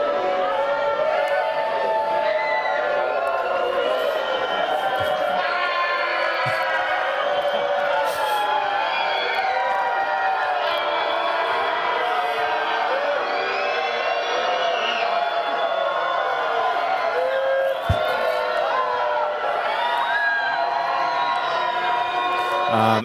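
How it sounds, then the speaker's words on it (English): A crowd screams and whoops into phones at an interactive installation, a dense, loud, continuous wall of overlapping shrill voices that barely lets up throughout. "it's this kind of thing that invites people to like just start screaming."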